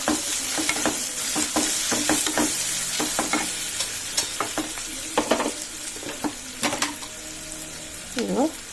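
Onions cooking in a pan for a chamagadda (taro) tomato curry, with steady sizzling and repeated scraping stirs from a spoon against the pan, close up, with no one talking.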